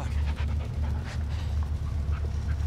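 Bullet the dog from Blair Witch pants in quick, breathy huffs, close and steady throughout, over a low ambient game hum.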